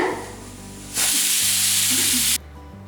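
Chettinad mutton sukka frying in oil in a pan gives a loud, close sizzle that swells suddenly, holds for about a second and a half, then cuts back to a quieter simmer.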